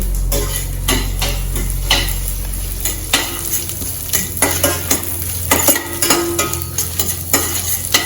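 Rapid crackling and popping of mustard seeds spluttering in hot oil, with scattered sharp pops and occasional utensil clinks throughout.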